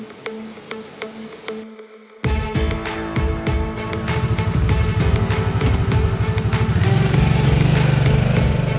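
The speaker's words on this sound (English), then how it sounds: "This motorcycle rides exactly the way that it looks." A 2021 Harley-Davidson Sportster S motorcycle riding, its engine rumble swelling from a lower drone after a short gap into a loud, steady, building roar, mixed with music.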